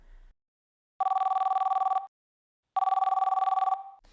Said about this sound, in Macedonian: Сега звони телефонот.